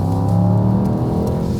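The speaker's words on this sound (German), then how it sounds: "Auch wenn du hier aus der Kurve jetzt mal raus beschleunigst" A Mercedes-AMG accelerating out of a corner, its engine a loud, steady drone with layered harmonics and a slight rise in pitch, heard close and alone.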